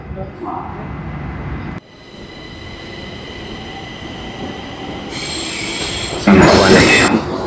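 A Dubai Metro train rumbles along with high, shrill wheel squeals rising toward the end, as an English onboard announcement speaks over the steady rail noise.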